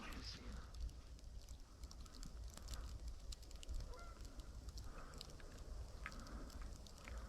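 Flock of geese honking in a field during a hunt, faint and distant calls overlapping steadily over wind and ambient noise.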